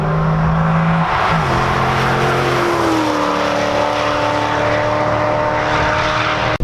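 C5 Corvette track car at speed on a race circuit, heard from inside: a loud, continuous engine drone whose pitch drops with a shift and then holds and climbs again, with no talking.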